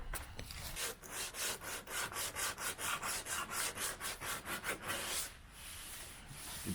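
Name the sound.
hand sanding car body filler with sandpaper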